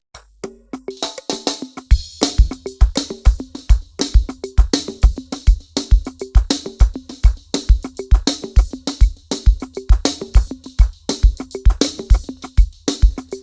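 A punchy drum groove plays alone, with a steady kick pulse, crisp snare hits and busy hi-hats looping in a tight, driving rhythm.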